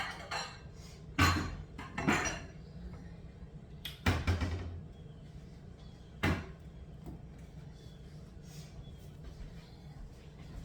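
In a home kitchen, a bowl is fetched and handled: several sharp knocks and clatters of crockery and cupboard movement spaced a few seconds apart, close and fairly loud against a quiet room.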